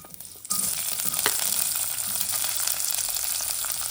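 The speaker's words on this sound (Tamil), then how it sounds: "இப்போ 2 காஞ்ச மிளகாய் இந்த மாதிரி கிள்ளி போட்டுக்கலாம். வெங்காயம் போட்டுக்கலாம்." Onions, dried chillies and mustard seeds hit hot oil with a sudden jump into loud, crackling sizzle that continues densely and evenly, close up and alone.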